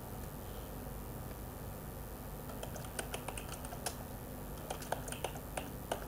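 Steady typing on a computer keyboard while entering data into a Microsoft Excel 2016 spreadsheet, light irregular key clicks picking up after the first few seconds over faint hiss.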